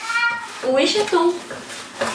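Pet cat Bilbo meows a few times at close range in a home kitchen, short rising-and-falling cries spread over about two seconds, with a voice speaking softly around them.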